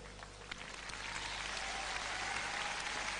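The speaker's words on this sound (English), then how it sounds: "I can hear everyone in the first three rows clapping" Audience applause at the Femina Miss India 2001 pageant grand finale, a dense far-off wash of clapping that builds steadily and holds without any voices.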